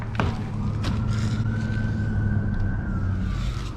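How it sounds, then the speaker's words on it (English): A siren wails in the distance with a slow rising and falling tone, over a low rumble of traffic, and no one speaks. "Oh, we got some sirens."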